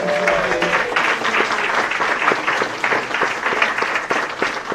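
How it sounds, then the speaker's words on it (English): An audience at a university distinguished alumni awards event applauds, with a steady wash of clapping at close range and a few sharper individual claps standing out. "I also give a round of applause for our Bon Appetit staff"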